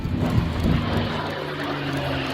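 An airplane at Prestwick Airport drones with a steady, broad engine roar that stays loud and constant throughout, with no voices.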